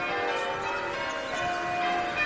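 Church bells ring steadily at a moderate distance across an English canal, heard from a canal boat as a sustained, overlapping metallic peal with no talk.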